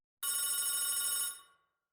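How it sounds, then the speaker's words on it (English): A hotel telephone beside the bed rings once, a loud, close electronic trill lasting about a second before fading quickly into silence. "the phone next to my bed rang"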